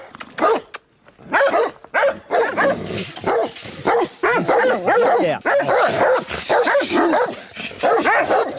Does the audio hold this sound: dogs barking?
yes